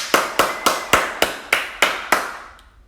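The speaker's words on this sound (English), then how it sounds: "give them a clap" Eight sharp, evenly spaced claps at a primary school assembly, ringing in a reverberant hall, each one decaying before the next, with the final clap trailing off into silence.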